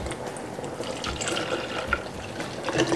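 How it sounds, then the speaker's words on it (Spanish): Two cups of milk are poured into a pitcher for a cream cheese drink, a steady close liquid stream with small splashes that runs for a few seconds and has no speech. "Lo vaciamos en nuestra jarra. Ponemos 2 tazas de leche."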